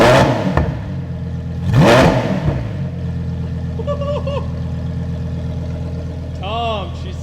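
A 2023 Lamborghini Huracan Tecnica in sport mode, its engine blipped twice in loud, sharp revs that fall back to a deep, rumbling idle up close, with people talking over it.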